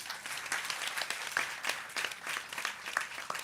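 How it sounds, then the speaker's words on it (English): An audience at a talk show on gender equality applauding, a fairly faint, steady patter of many hands clapping throughout, heard at some distance. "Another round of applause for that"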